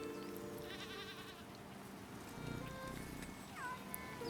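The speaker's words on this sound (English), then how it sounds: "Hey, kitty. Stop wandering around." In the medieval survival game Bellwright, a cat meows in short, faint bleat-like cries over a constant ambient game backdrop of low hum and soft environmental noise.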